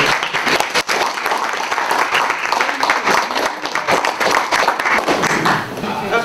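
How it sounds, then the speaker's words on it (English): Audience clapping at a school board meeting, a loud, irregular round of applause from a modest group in a meeting room, with sharp individual claps and thumps, and voices talking underneath. "I think they deserve a round of applause"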